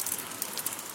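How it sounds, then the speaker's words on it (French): Steady rain falls outdoors during a wet hike in the mountains north of Peyresc, a dense, even patter of drops with a few sharper taps close by, and no voices. "c'est bien mouillé, hein, je peux vous dire, parce qu'il pleut depuis un moment."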